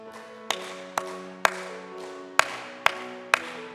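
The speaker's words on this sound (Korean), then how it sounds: "함께 박수 면서 찬송합시다" Members of a church congregation clap along in time with a hymn being sung, sharp rhythmic claps cutting through the sustained singing and music at a steady, moderately paced beat.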